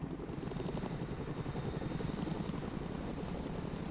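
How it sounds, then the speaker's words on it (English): A Chinook helicopter arriving in the video game Broken Arrow gives a steady, loud, fast rotor thump with a dense engine roar that holds evenly throughout. "Watch the Chinook come in."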